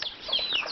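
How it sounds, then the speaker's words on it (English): Brief, high chirpy clucks from chickens, faint and close together over less than a second. "Annoying chickens."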